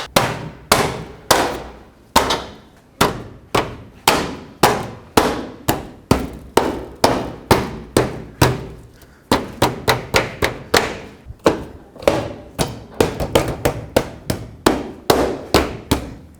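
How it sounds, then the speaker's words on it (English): Plastic bumper trim clips on a 2007-14 Chevy Silverado being forced into place, heard as a long series of sharp, loud knocks and thuds in an irregular rhythm, close up and with no talking. "I'm gonna put this red trim piece back on, line it up with all its clips, and just press it in."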